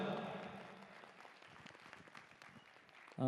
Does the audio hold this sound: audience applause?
yes